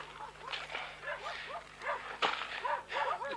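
Several dogs bark repeatedly near a road, a quick yapping chorus at mid distance over a low hum, with brief distant voices in the background.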